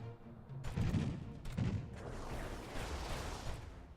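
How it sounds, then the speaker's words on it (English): Torpedoes launching in the space strategy game Master of Orion: two heavy thumping blasts in quick succession, followed by a rushing, crackling roar as they fly off, fairly quiet overall. "Okay, there go the torpedoes."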